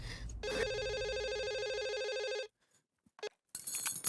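A telephone rings in one steady electronic burst of about two seconds, loud and alone, followed by a brief click and a few faint handling noises.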